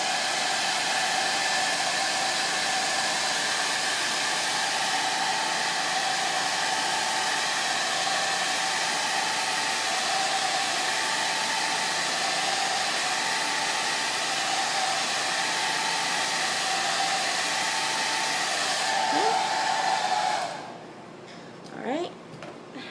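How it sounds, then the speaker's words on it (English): A hair dryer blows on its cool setting over a chalk transfer craft project, a loud steady whoosh with a constant hum that runs about twenty seconds before cutting off abruptly, followed by faint handling sounds. "And now I'm going to go ahead and hit that with my hair dryer again, so turn your volume down if you need to."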